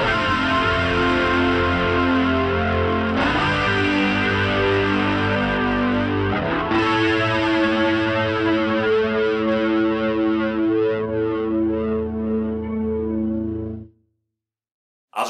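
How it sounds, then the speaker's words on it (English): Long, sustained, distorted electric guitar chords through a Line 6 Helix, played for the second half of a song's intro, with chorus and echo effects. Loud and alone, three chord changes ring out and then cut off abruptly. "that's for these long, sustained, distorted chords, and it sounds like this."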